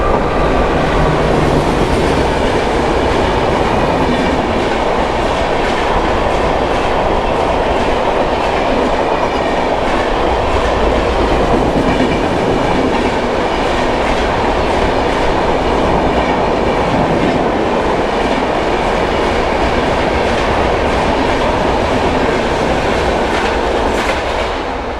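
A long, crowded Mumbai commuter train rumbles past close by, with loud, steady wheel clatter and rail rattle that continue without a break for the whole stretch.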